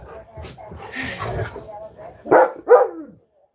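A dog barks twice in quick succession near the end, loud and close, after a stretch of muffled speech and household movement.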